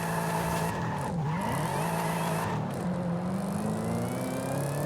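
A car drifting in Forza Horizon 5 with traction control switched off, its engine droning steadily with pitch sweeping down and back up as the tires slide, loud and continuous without talking.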